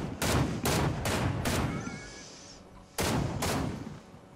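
Video game gunfire comes as loud, close bursts of rapid automatic fire in several separate volleys with short pauses between them, and a brief tonal game sound plays in one gap.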